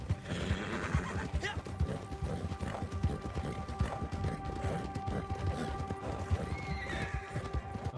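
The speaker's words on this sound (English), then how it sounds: "Deliver the horse to the stable." Horses in Red Dead Redemption 2 online gameplay: repeated clip-clopping hooves at a steady trot with a loud whinny partway through, dense and close throughout.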